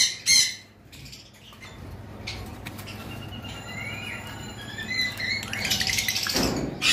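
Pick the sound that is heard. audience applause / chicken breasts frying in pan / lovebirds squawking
lovebirds squawking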